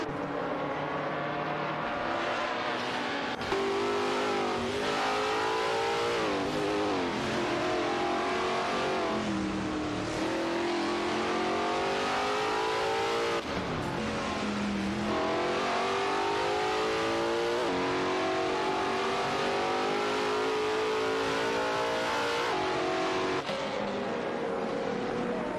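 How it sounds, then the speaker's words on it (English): Race cars in an AI racing video game, high-pitched engines revving and shifting through gears continuously, several cars close together with rising and falling pitch sweeps, loud and unbroken with no talk. "moved up to position 10 after overtaking Wazirius Guy"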